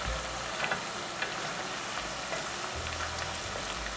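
Continuous crackling sizzle of garlic frying in a pan, with fine popping spatter and faint scraping as it's stirred.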